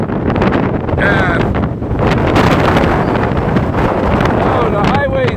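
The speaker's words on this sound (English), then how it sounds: "We got 56-mile-an-hour gusts." Strong wind gusting at 56 mph roars steadily across the microphone, a dense, loud buffeting that never lets up, with faint fragments of a voice caught beneath it.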